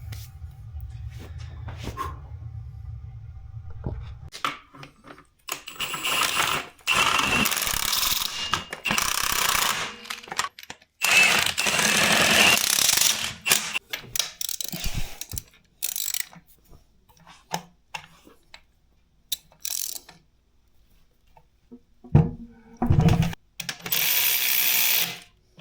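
Work on bolting a car transmission back up: irregular bursts of metallic ratcheting and clanking with loud hissing tool noise, broken by quiet gaps and clicks, close by in a garage.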